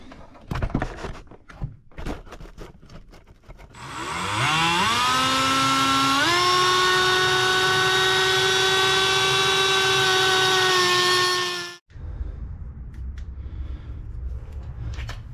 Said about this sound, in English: Put some safety glasses on, and we're going to cut this nut down